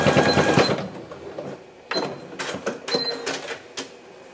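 A sewing machine stitching the center seam of a pair of shorts, a few short mechanical bursts of clattering needle runs with pauses between, close up and without talking.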